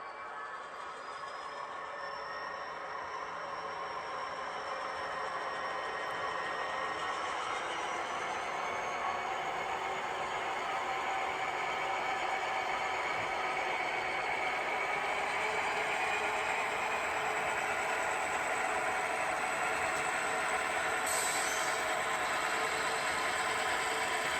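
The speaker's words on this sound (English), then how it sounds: "So we're operating a different train now. This is a mainline train." A model mainline train runs steadily on a layout with a continuous motor hum and rail rumble, a faint high whine drifting over it, no voices.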